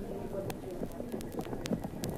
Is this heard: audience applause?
no